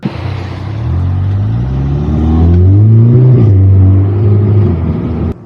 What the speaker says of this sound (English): there's a DSG fart from first gear, so it sounded pretty good